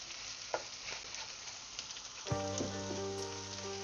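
Sliced onions are stirred and sautéed in a pan over a high flame, a soft sizzle broken by scraping clicks, then a steady tonal hum joins the frying partway through, with no talking.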